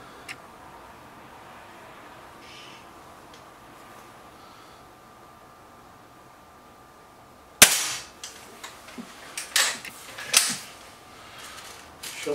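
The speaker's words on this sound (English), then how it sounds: "Shot there from the B2." SMK B2 deluxe air rifle fired at a target, one sharp close crack followed by several fainter clicks and rattles of handling, after a long quiet stretch.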